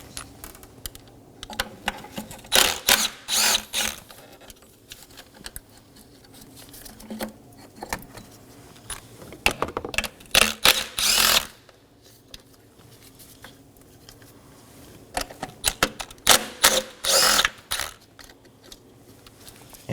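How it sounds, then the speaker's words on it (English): An impact wrench with a 10mm socket removes bolts from a Nissan Maxima intake manifold in three short, rattling bursts of hammering, separated by quiet handling sounds. "Now we're going to take a 10mm on a impact wrench and remove these 10mm bolts"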